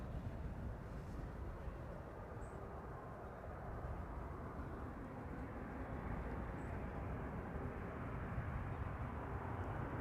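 A KLM Boeing 737-800 arrives at Amsterdam Schiphol from Milan, a constant broad jet roar at fairly low level, steady throughout with no voices.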